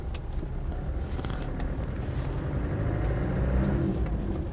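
A Land Rover Defender 90 CSW with the 300Tdi diesel engine drives along, a steady low rumbling drone with road noise that builds slightly as it moves, heard from inside the vehicle with no talking.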